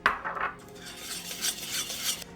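Utensil scraping and clinking against a bowl while milk and shrimp are stirred into a dry paste seasoned with paprika, close and busy, with no voices.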